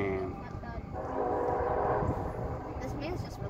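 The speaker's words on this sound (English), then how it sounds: "It's a Blue River train." Blue River train rolling through a valley below a high vantage, a steady broad rumble with a faint horn-like tone early on, sustained and moderately loud as people chat over it.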